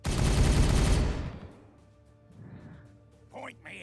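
Loud burst of rapid gunfire from the video game Warhammer 40K Regicide, a dense fusillade lasting about a second before cutting off. Low rumbling and quieter effects follow, then brief game sounds near the end.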